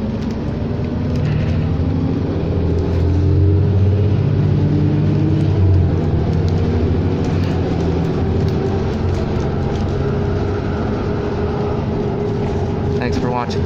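2007 New Flyer D40LFR city bus on an Edmonton route heard from inside: a steady, loud low engine drone and road rumble, with a slight swell early on and faint rattles, no voices.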